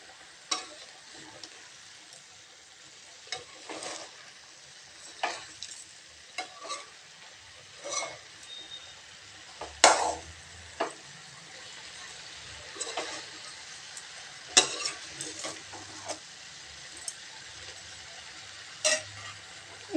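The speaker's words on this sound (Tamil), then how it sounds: "இது நல்லா கிளறி விட்டுக்கலாங்க. இது ஒரு 2 நிமிஷம் வதங்கட்டுங்க." Vegetables being stirred and sautéed in a pan for a masala curry, with a soft continuous sizzle broken by irregular scraping and clinking strokes of a spoon against the pan.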